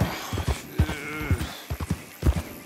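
Irregular hoof clops from a horse in the video game Red Dead Redemption 2, a dozen or so uneven thuds spread across a few seconds, moderately close, with no talking.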